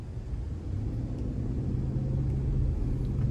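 A 2021 Cadillac Escalade ESV Sport with 78K miles cruising on a road, heard from inside as a steady, low, continuous cabin rumble of engine and tyres with no talking.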